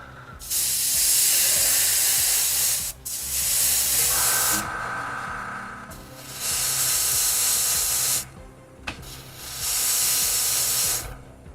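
Loud pressurised spray hissing while something is being cleaned, in three long sustained bursts separated by short pauses, over a low steady hum.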